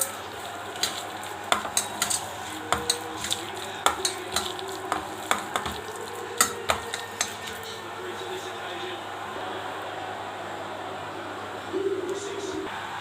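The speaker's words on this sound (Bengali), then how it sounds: "এবার ভালো করে চটকিয়ে নেব।" Fish roe being hand-mashed with salt, turmeric and onion in a bowl, heard as a steady series of soft wet squelches and thumps at a regular rhythm, close by, with a faint background hum.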